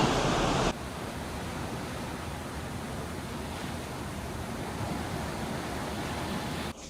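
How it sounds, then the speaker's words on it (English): A shower runs in a cruise ship cabin, giving a steady hiss of spraying water heard from the next room. The sound starts a little louder, then holds even. "Dee is in the shower if you hear that in the background."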